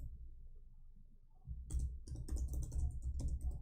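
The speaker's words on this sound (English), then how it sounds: "I don't know why this typing is so slow." Computer keyboard typing, quiet at first and then a quick run of close, light key clicks over a low steady hum.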